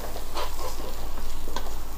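Curry paste is stirred and fried in a pan, giving a steady, close sizzle with soft scraping strokes of the spoon throughout.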